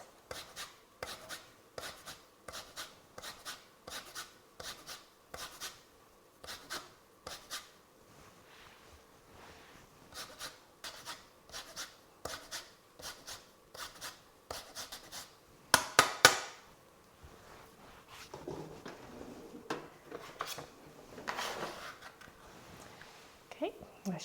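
Two lemons are zested with a zester in a kitchen: a long run of short, evenly spaced rasping strokes, close and fairly quiet, then a brief louder clatter and some softer scraping near the end, with speech in places.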